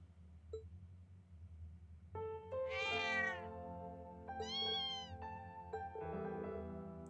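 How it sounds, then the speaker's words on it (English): A mother cat in a video game meows repeatedly, three drawn-out tonal cries over a low background hum, clear and fairly close with short pauses between. "searched for the missing mother cat with every fiber of their being"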